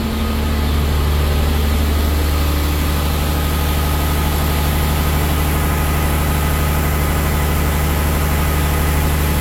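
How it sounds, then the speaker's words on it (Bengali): Twin Weichai 550-horsepower diesel engines run inside the engine room of a passenger launch, a loud, steady, deep drone with constant low throbbing and mechanical vibration that never lets up and carries no talk. "ইঞ্জিন হিসেবে আছে উইচাই 550 হর্স পাওয়ারের 2টি ইঞ্জিন।"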